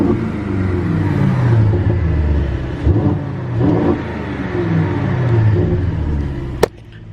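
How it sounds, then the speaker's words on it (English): An Aston Martin DB12 Volante V8 with its exhaust open revs up repeatedly from close by, loud rising and falling engine swells and a deep rumble, ending in a sharp exhaust crack before settling. "let's open the exhaust and hear this V8 come to life"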